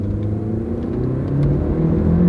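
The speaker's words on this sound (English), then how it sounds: "We'll see what the turbo does here." Small-wheelbase Mini car with a turbo accelerating along a bumpy road, a steady low engine rumble heard from inside that rises slightly in pitch toward the end, with no talking.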